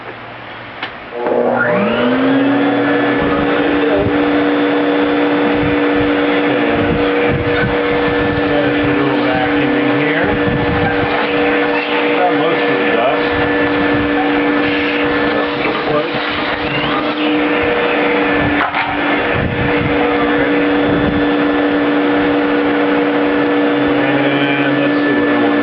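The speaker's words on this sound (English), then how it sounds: "This is a fine dust collector, F-E-I-N, not F-I-N-E. And let me turn this on." A Fein fine dust collector starts up and runs steadily, a loud constant whine with a sustained tonal hum holding for over twenty seconds after a quick spin-up.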